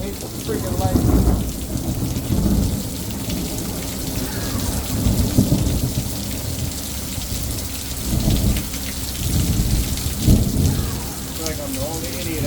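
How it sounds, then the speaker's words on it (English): Rain pours down outdoors during a lightning storm while an engine bay is being pressure washed, with repeated deep thunder rumbles rolling through the steady hiss of rainfall, loud and close, and a voice speaks briefly. "Always lightning, man. I hate lightning. I don't mind the rain."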